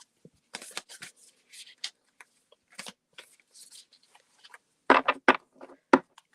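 A deck of oracle cards is shuffled by hand in uneven bursts of papery riffling and flicking, close and crisp, with quiet pauses between the bursts and a few louder snaps near the end.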